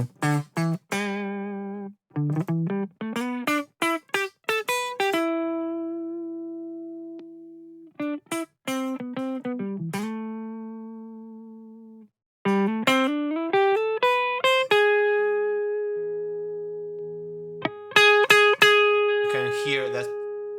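Bright, distorted electric guitar notes and chords through an AuroraDSP Rhino amp simulator on its bright setting, played in short runs and sustained tones, with a crisp, treble-heavy amplified tone.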